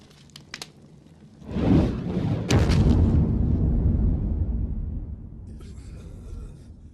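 A cannon fires a shell, a single heavy boom followed by a long rumbling roar that slowly fades over several seconds.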